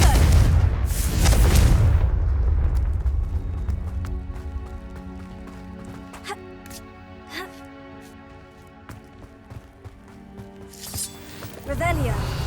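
Fiery Confringo spell blast in the video game Hogwarts Legacy, a loud booming burst at the start that fades into a lingering crackle and rumble, with another impact near the end.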